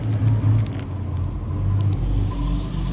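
A car passes by outdoors with a steady low engine rumble and road noise, close and fairly loud, swelling and easing over a few seconds.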